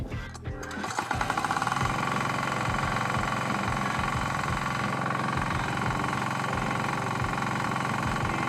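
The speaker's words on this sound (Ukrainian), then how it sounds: "Заводимо двигун." A small walk-behind tractor engine on a Kentavr KR-02U mower catches and settles into a loud, steady, rapid chugging idle that runs continuously close by.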